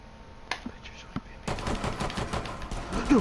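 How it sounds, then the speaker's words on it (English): Rapid gunfire in a Rainbow Six Siege custom match bursts in mid-clip as a dense, continuous volley after a few isolated clicks, loud and close with a faint voice underneath. "What the heck are you even shooting at?"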